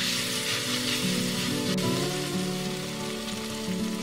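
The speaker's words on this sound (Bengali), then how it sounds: "আদা রসুন বাটা পেঁয়াজের সাথে মিশিয়ে নিয়ে কাঁচা গন্ধ চলে যাওয়া অবধি ভেজে নিচ্ছি" Ginger-garlic paste frying with onions in a pan for Indian-style masala pasta, giving a steady, close sizzle like rain on a surface, with a faint tonal hum underneath and no voices.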